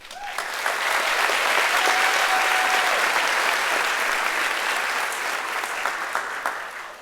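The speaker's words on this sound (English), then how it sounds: "giving a big round of applause to the class of 2025" Audience applause for the class of 2025 at a high school graduation ceremony, sustained dense clapping that swells quickly and carries on steadily for several seconds in a large hall.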